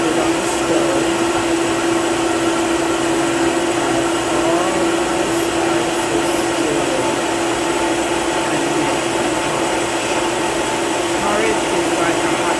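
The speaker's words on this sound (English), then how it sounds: "So I'm blending it out to liquefy it." An electric blender runs continuously, liquefying soaked purple sea moss for porridge, a loud steady whir with no pauses throughout.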